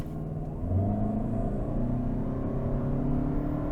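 A 2025 Toyota Camry Hybrid launching from a torque brake at night, a rising engine and motor rumble that swells after a short pause and builds steadily as the car pulls away, heard from inside the cabin.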